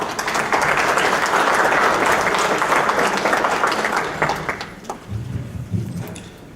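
Strong audience applause welcomes a speaker at an evening seminar on administrative silence in Arequipa, Peru, building to a dense roar, then thinning to scattered claps and fading as a voice begins.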